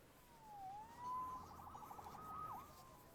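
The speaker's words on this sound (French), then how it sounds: "Sauvé par les sirènes." Police siren wailing in the Spider-Man Remastered video game, a rising and falling tone that stays at moderate distance and fairly faint, with no talking over it.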